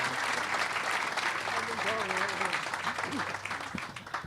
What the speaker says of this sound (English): So round of applause for Congressman John Yarmuth.